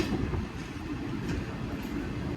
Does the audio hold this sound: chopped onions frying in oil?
no